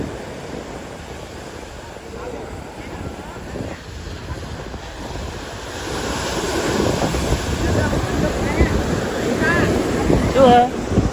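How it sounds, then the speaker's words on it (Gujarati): Sea waves wash steadily onto the beach at Somnath, a broad continuous surf roar with wind buffeting the microphone, swelling louder in the second half and mixed with faint crowd murmur. "દરિયા હે"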